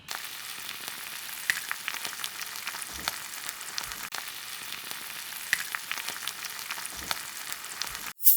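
Marinated beef frying in a pot on a village stove, with a steady close sizzle and hiss running throughout, broken by a few soft thuds, then cutting off abruptly near the end.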